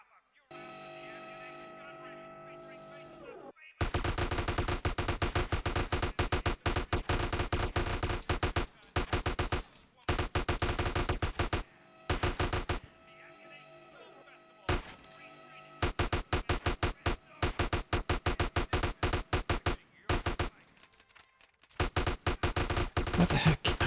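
Sustained automatic AK rifle fire in GTA San Andreas rattles in dense, loud bursts separated by short gaps, with steady game background sound underneath throughout.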